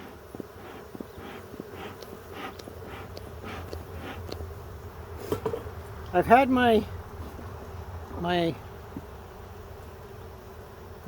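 Honeybees in an open hive during an inspection: a steady close buzz throughout, with a few louder rising drones from bees passing the microphone and brief speech.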